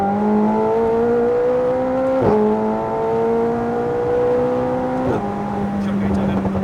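A McLaren 765LT Spyder accelerates hard, its engine note climbing steadily before two sharp gear changes drop the pitch. Each time the revs rise again in a loud, continuous, close-up run.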